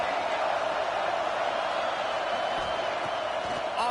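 Home stadium crowd in a college football video game, LSU versus Ole Miss, roars steadily and loudly throughout, a dense continuous wash of cheering with a slight swell at the very end.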